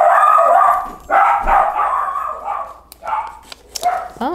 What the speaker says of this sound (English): my dog is on a bark fest today